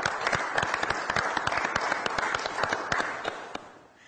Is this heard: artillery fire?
no